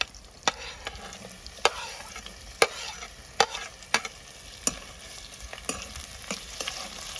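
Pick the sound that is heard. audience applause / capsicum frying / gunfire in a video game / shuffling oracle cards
capsicum frying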